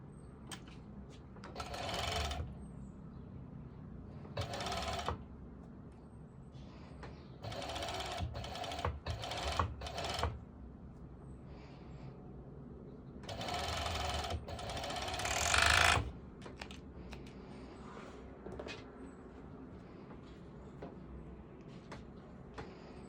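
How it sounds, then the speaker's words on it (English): A serger sewing machine stitches activewear shorts in several bursts of fast whirring, each a second or a few seconds long, with short pauses and faint handling sounds between runs. "So that's one thing already serged, and now I will be doing the other side."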